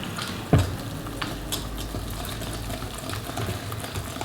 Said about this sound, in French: Et on vient mélanger